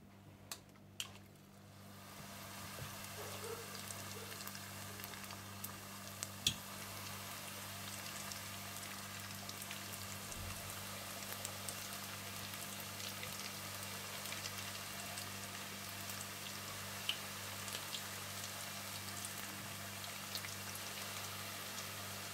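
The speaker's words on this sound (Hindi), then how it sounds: "आप तेल गरम कर लीजिए और इन्हें डीप फ्राई कर लीजिए" Prawn balls deep frying in hot oil, a steady fine crackling sizzle with scattered pops that runs evenly and fairly quietly for the whole stretch, with no talking.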